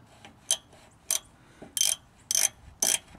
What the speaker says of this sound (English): Once you got your ratchet in place, take your ratchet